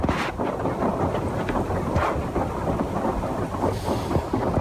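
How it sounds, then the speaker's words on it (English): Heavy rain pours down continuously outside a tent in a forest, a dense loud roar with low rumbling thunder underneath. "It's fucking pouring down rain."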